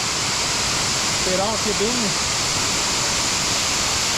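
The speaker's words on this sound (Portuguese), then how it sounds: "essa aqui é a cascata do Trovão, aqui da Serra da Canastra" Tall Cascata do Trovão waterfall in Serra da Canastra, a steady loud broadband roar of falling water throughout, with someone speaking briefly over it in the middle.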